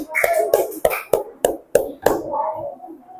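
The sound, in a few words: students clapping hands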